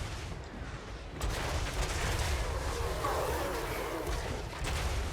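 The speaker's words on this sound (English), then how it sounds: "These besticles here are finding out about mortars." Mortars firing in Total War: Warhammer 3 battle, dense rumbling bursts and crackling blasts that thicken after the first second into a continuous barrage, mixed with distant battle din.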